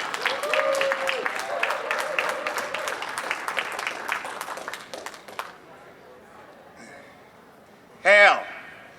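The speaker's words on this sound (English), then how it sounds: "give Ben a round of applause" An audience claps and applauds for a presenter at a flat-earth conference, a dense burst of clapping lasting about five seconds before it fades out. A short, loud voice exclamation follows near the end.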